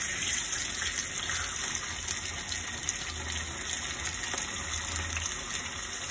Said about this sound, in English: To fry the fish, we first put in the oil, and then we want to make sure that the oil is hot enough.